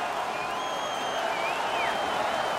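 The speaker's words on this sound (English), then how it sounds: "The home crowd is ecstatic. They're making all kinds of noise." Home arena crowd in an NHL 19 playoff game, Sharks against Golden Knights, roaring steadily after a fight, a dense continuous wash of cheering and clapping with whistles rising above it.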